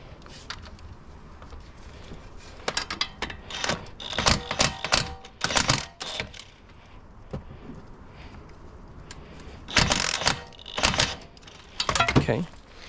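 A wrench or ratchet tightens bolts on the front air shock of a Mercedes CLS, giving bursts of rapid clicking and metallic ratcheting in clusters with pauses between, close and fairly loud.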